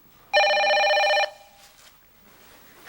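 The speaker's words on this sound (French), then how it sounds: "il sonne donc bien bizarre, ce téléphone-là" A telephone rings with an odd custom ringtone, a single loud electronic burst lasting about a second, near and clear, then fading into quiet room noise.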